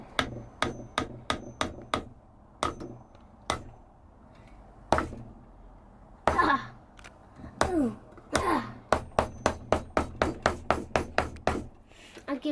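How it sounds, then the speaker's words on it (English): Hammer blows strike a wooden box under construction, sharp repeated knocks in quick rhythmic bursts with short pauses between runs, close and loud, with faint voices in the background. "I'll give it some hammer."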